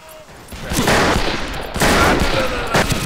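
Gunfire in the Western shooter game Fistful of Frags: several loud, rapid bursts of shots roughly a second apart over a dull background.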